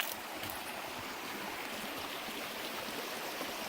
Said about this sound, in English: We got probably part of the South Fork of the Jacks River.